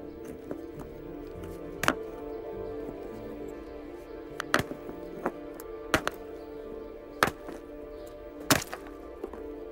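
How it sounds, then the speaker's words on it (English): A primate knaps flint, banging two rocks together to shape a knife, making sharp, irregular clacks spaced a second or more apart against a low background hum. "It's hard to see how banging two rocks together will help, but Vulcan's determination suggests he has"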